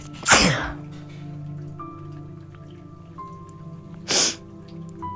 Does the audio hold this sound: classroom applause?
no